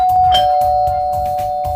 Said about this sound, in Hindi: लेकिन तभी मुझे दरवाजे की बेल बजती है।